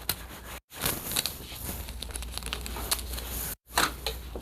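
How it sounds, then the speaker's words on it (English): Tape pulled from a roll and pressed onto the internal boards of a Hisense 43R6E3 TV, with close, crackly ripping and crinkling in two long bursts split by brief silences. "But first, we're going to just tape down"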